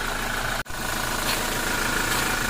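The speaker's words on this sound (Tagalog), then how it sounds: "So marinig nyo yung engine, no?" A 2023 Toyota Innova engine idling in a steady, close hum with a brief dropout near the start, then running on evenly.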